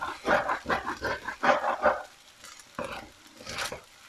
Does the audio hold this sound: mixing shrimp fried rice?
yes